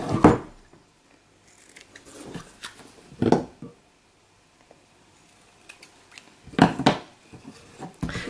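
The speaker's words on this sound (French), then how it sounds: "On va couper le ruban en biseau." Scissors snip through ribbon at an angle in a few distinct, close cuts separated by quiet pauses, with no voices.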